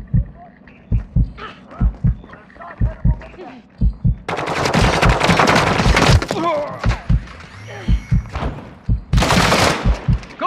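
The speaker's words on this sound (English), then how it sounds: "I'm taking fire!" Gunfire in Call of Duty: Modern Warfare II, a steady pounding of heavy shots in an even rhythm, swelling into dense, roaring bursts of fire and explosions in the middle and near the end.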